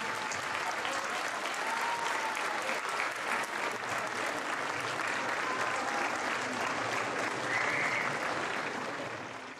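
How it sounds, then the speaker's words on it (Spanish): A crowd at a community gathering breaks into sustained, loud applause that holds steady for nearly ten seconds, dense and even throughout with no voices standing out. "les pediría un fuerte aplauso para los abogados y para los indiciados"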